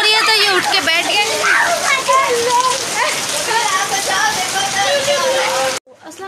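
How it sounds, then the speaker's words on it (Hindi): Steady rain pattering down while a person talks over it almost continuously; the sound cuts off abruptly near the end. "अभी भी आप देख सकते हैं बारिश हो रही है"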